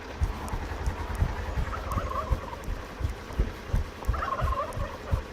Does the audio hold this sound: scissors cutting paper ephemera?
no